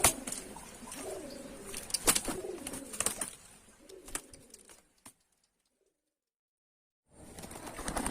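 Pigeons cooing close by in low, throaty bursts mixed with sharp clicks and rustles, then about two seconds of near silence before faint activity resumes.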